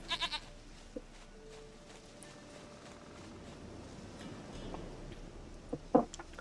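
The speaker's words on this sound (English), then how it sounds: "Dearest, sweetest goat." A goat in the video game The Witcher 3 gives a few short bleats, quiet at the start and louder near the end, over a low, faint game ambience.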